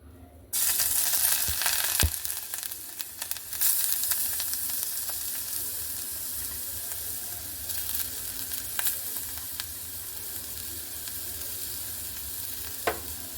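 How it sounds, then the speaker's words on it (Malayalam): Loud, steady sizzling of ginger frying in hot coconut oil, with occasional sharp clicks and scrapes of stirring throughout. "ഇതിലേക്ക് നമുക്ക് ഇപ്പം വെളിച്ചെണ്ണ ഒഴിച്ച് കൊടുക്കാം. വെച്ചിട്ടുള്ള ഇഞ്ചി ഇതിലേക്ക് ഇട്ട് കൊടുക്കാം."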